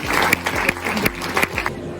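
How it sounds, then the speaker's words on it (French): An audience applauds at a school anniversary event, a dense wash of clapping with a few sharper claps standing out, steady for about two seconds and then thinning toward the end. "si vous pouvez les applaudir d'ores et déjà"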